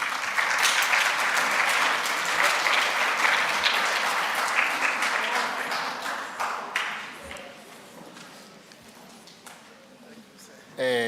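A crowd at a school debate competition in Johannesburg gives loud, sustained applause that gradually thins into scattered claps before a voice cuts in at the end.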